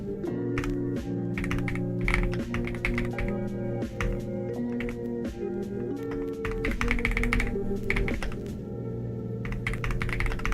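Typing on a computer keyboard, a rapid irregular stream of close crisp key clicks and taps over a steady background music bed, with no speech.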